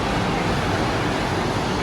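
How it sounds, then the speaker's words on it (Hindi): Ocean waves on the beach at Cancun make a loud, steady wash of broad surf noise, constant with no breaks or distinct crashes, and no voices. "लहरों की आवाज़"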